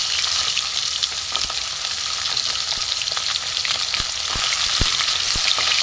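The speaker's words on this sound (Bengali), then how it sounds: "কাতলা মাছগুলো কুচিয়ে একটু দিক করে ভেজে নেব।" Pieces of katla fish fry in oil, making a constant loud sizzle close by with scattered sharp pops and crackles and no voices.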